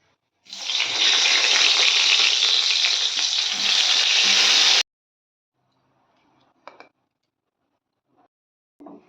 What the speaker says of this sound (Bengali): সোয়াবিনটা প্রথমে ভেজে নিচ্ছি